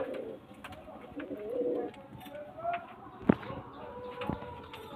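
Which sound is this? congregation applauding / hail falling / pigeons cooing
pigeons cooing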